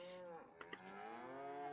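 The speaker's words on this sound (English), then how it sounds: "A bunch of different cows in here." Several cows moo in a farming video game's animal dealer pen, long sustained lowing calls overlapping one after another, fairly loud and close, with a couple of brief clicks midway.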